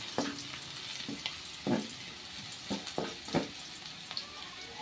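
Garlic frying in hot oil crackles with a soft, continuous sizzle, broken by scattered pops and stirring clatters close by.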